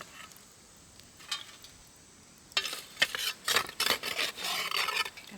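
Hot campfire coals piled onto the lid of a Dutch oven for baking sourdough: quiet at first, then a run of close, gritty scraping and clinking bursts as the coals are shifted into place.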